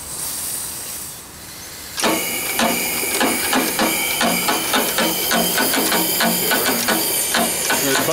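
A steam engine boiler's drain and fill valve runs with a steady hiss and a rapid, regular mechanical ticking after a quieter start, loud and close, with no talk.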